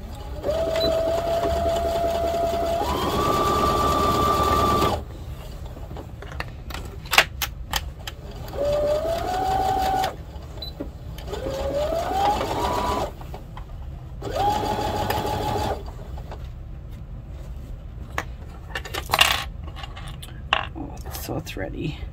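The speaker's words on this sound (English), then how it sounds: "Okay, so I'm gonna sew the side that has the handle." A sewing machine stitching the handle side of a garden kneeling pad with a quarter-inch seam, running in several close bursts of rapid whirring with pauses and small clicks between runs.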